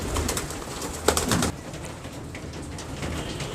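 Pigeons for sale, a mix of fancy breeds, give soft burbling coos that swell in a louder burst near the start, then fade into a quieter background of coos and rustling.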